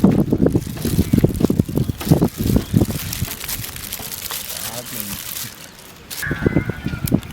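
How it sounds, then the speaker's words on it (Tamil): Strong wind buffets the microphone outdoors beside a fire lit for roasting cassava, in loud, gusty rumbling bursts, with brief crackles and a short lull near the end. "பயங்கர காற்று."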